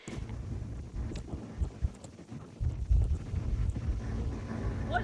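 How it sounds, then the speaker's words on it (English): Wind gusting in the open at about 25 miles per hour, a steady low rumble and buffeting against the microphone that swells louder midway and stays strong to the end, with no talk. "I got a little bit of a video of the wind blowing"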